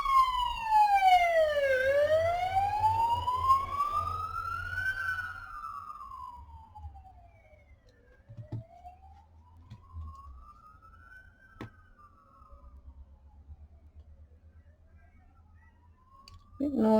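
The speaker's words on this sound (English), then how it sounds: "We've got sirens going again." Wailing emergency vehicle siren on a city street, loud at first then fading and rising again in long sweeping cycles, with faint clicks and low traffic rumble beneath.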